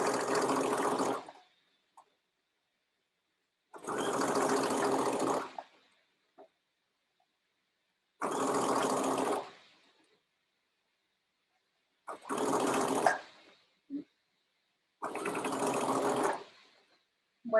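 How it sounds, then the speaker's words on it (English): Home sewing machine stitching over pressed seam allowances on a bodice facing and lining, five separate runs of steady whirring, each about a second long, separated by short quiet pauses and small clicks, close and alone. "I'm stitching right on top of those seam allowances so they stay folded over"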